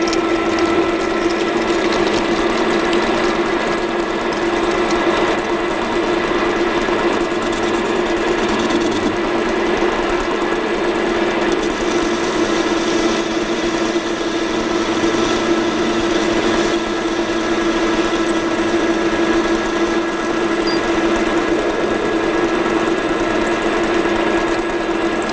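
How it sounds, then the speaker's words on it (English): A metal lathe rough-faces a steel workpiece in a fitting and turning workshop, giving a continuous loud mechanical whir with a steady tonal hum and gear-like rattle, unbroken and alone for the full length. "And I'm going to just give it a rough facing there."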